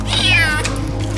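A kitten meows with a single drawn-out, high, wavering cry, loud and close, over a steady low hum.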